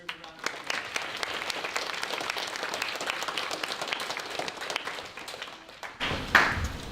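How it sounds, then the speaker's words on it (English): An audience of pupils at a Year 7 school assembly applauds for about six seconds, a steady dense clatter of clapping in a hall that tapers off, followed by a brief louder bump. "So can we give Mrs. Price's group a round of"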